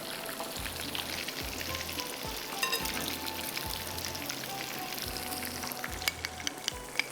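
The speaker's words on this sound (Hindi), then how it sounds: "थोड़ा सा इसको फ्राई कीजिएगा" Chicken kebabs on toothpicks fry in a pan, giving a steady, close crackling sizzle with dense spitting pops throughout and a faint low rhythmic hum beneath.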